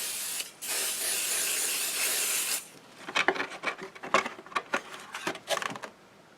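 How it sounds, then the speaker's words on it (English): Thermoweb Pixie Spray adhesive blasts in a steady, close aerosol hiss for about two seconds onto the back of a die cut, followed by scattered soft rustles and taps of paper handling. "I always spray the back"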